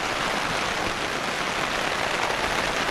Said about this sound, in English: The rain picked up.